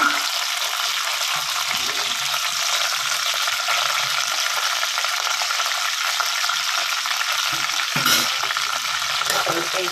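Chillies, curry leaves and peanuts fry in a pan with an even, continuous sizzle that stays close and loud throughout, marked by a brief sharper crackle near the end and no voices.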